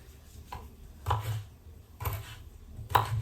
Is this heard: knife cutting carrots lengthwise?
yes